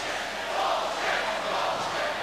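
A hockey arena crowd at a 1999 University of Minnesota Duluth versus Gophers game reacts to a penalty, a sustained loud roar of many voices swelling and holding steady throughout.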